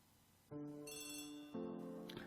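Telephone ringing in the Agatha Christie: The ABC Murders video game, two bright electronic ring bursts about a second apart, clean and alone.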